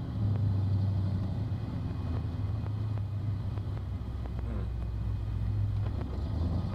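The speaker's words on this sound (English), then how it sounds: "you can hear the V8 setting off car alarms" Low rumbling V8 engine drone with a steady throbbing idle tone, some wind noise over the microphone, no talking.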